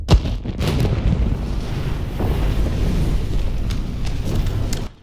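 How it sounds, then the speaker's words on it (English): A Demon Slayer–style explosion sound effect: a dense, rumbling blast with a few sharp cracks near the start, followed by a sustained roaring wash that cuts off abruptly. "That's kind of the first initial explosion. It's just those couple cracks."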